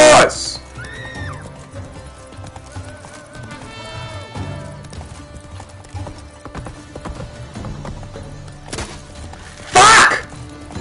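A horse in The Witcher 3 gallops with steady clip-clop hooves, and a loud, sharp burst near the end stands out over the game's music and effects.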